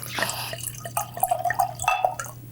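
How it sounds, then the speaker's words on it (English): Organic Italian wine poured into a large glass, giving a short liquid trickle and drip with light glassy clinks over about two seconds, close and fairly clear over a steady low hum. "Oh, I want to pour a glass because that's a part of the show"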